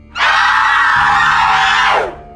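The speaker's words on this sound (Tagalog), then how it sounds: "Isang nakabibinging hiyaw ang pumuno sa buong kubo." A loud, shrieking monster scream erupts suddenly, holds steady at full force for nearly two seconds, then cuts off.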